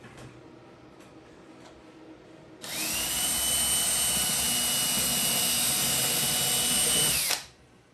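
A power drill bores holes while a LiFePO4 battery is being assembled, whirring loudly and steadily for about five seconds after a few faint taps, then spinning down abruptly.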